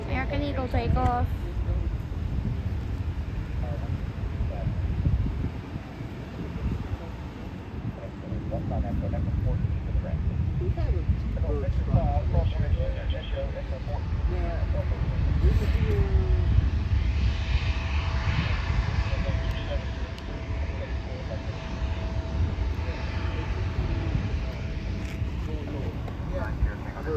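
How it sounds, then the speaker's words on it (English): An American Eagle airliner takes off while plane spotting at Charlotte airport, its engines building into a broad, rising roar that swells mid-stretch, with a person talking over the noise. "American Eagle take off."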